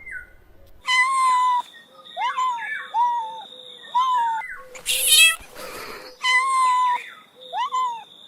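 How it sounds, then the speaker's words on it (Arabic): A cat meows repeatedly in a farm-animal setting, several clear, rising-and-falling calls spaced out over the clip, with a brief noisy burst in the middle. "قطة."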